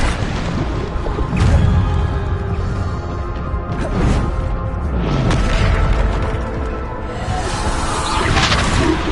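Repeated booming blasts of the Bombarda spell in Hogwarts Legacy game combat, loud dense impacts with whooshing swells recurring every couple of seconds over a constant rumbling background.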